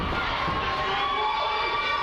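Crowd cheering and shouting at a hockey game on an indoor rink, a dense continuous roar of many voices, close and loud throughout.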